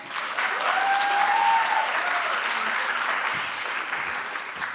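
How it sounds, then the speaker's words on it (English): An audience applauds steadily for several seconds, a dense wash of clapping that swells early and tapers off slightly toward the end. "if we could just take a moment to give Mike a round of applause."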